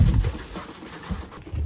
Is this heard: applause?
no